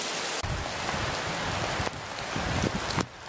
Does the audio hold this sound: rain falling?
yes